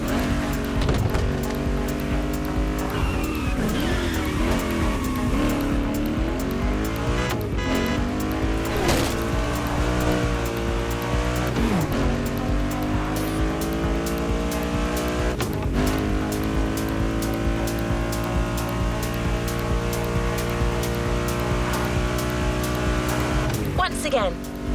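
Cars race on a volcano in The Crew Motorfest video game, including an off-road tuned Mustang GT, with loud sustained engine roar, shifting revs and tire noise, while a voice talks over it.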